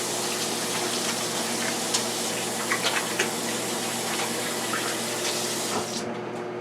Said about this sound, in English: let me go ahead and wash my hands first